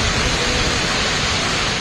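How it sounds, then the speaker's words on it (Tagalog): Typhoon Pepito lashes Catanduanes in the Philippines with strong wind and heavy, unceasing rain, a dense steady roaring wash of noise with no pauses. "Inihampas ang malakas itong hangin sa lahat ng madadaanan na sinabayan pa ng walang tigil na buhos ng ulan"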